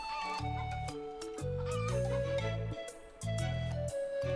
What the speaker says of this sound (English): Okay, play in more chickens here.